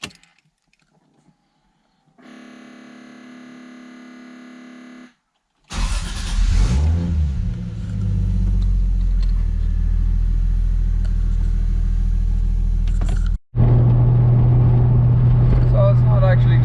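A turbocharged car engine fitted with a GForce3 blow-off valve and MAC 4-port boost control runs loud and close, rumbling steadily with a deeper surge near the end, after a quiet stretch and a brief steady hum.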